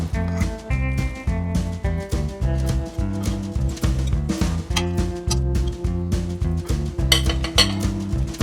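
Zucchini bread mixture being added to a loaf pan, with rhythmic metallic clinks and scrapes of a utensil against the pan repeating steadily and close.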